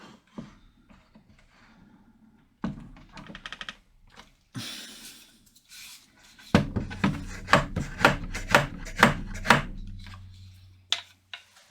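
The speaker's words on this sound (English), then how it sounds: "so I can get my chisel in there" A chisel works through wood during chip carving: quiet scraping and paring cuts, then a run of crisp, evenly spaced taps and knocks, close and clear, with no voices.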